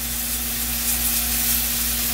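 Beet batter spooned into a hot pan with a little cooking oil, frying into pancakes like grated-potato jeon, giving a steady, fairly loud sizzle with a soft hiss throughout and a slight swell partway through.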